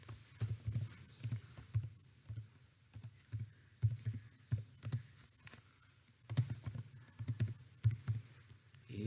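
Java code being typed on a computer keyboard, with quick irregular clusters of close, soft key clicks and brief pauses between bursts.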